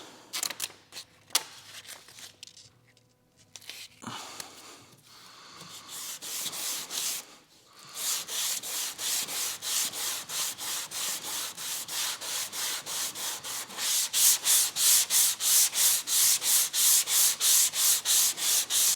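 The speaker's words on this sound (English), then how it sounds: "So just some light sanding," Light dry hand sanding on a body panel of an abandoned Evo 8 under rebuild, starting with scattered scuffs, then settling into steady, rhythmic back-and-forth rasping strokes that grow louder and quicker toward the end, up close.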